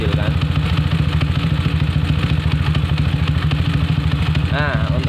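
A Honda CB motorcycle engine fitted with a PWK 30 carburetor idles steadily up close, a loud, even rumble with a fast regular pulse throughout.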